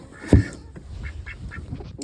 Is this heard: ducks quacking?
yes